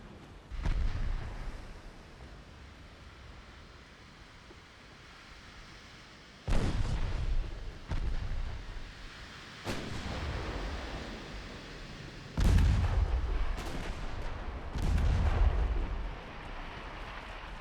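Torpedoes detonate in a naval battle in the game Ultimate Admiral Dreadnoughts. Several deep booming blasts are spread apart, some close together in pairs, each rolling out over a low, rumbling sea-like background.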